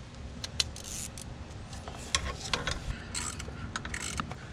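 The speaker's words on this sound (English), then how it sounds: "So I need to take off these 3 bolts." A ratchet works loose 10mm bolts on the front of a pulley on a 1992 Ford engine during head gasket repair, giving irregular bursts of close metallic clicking and clanking with no talk.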